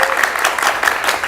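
A TV studio audience of university students applauds, a short burst of dense, lively clapping close to the microphone.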